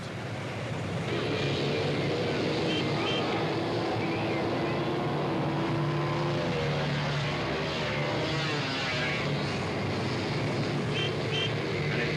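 Low racing karts run around a track, their engines forming a continuous buzzing drone whose pitch rises and falls as they pass. The sound is fairly loud and steady, with no clear talking.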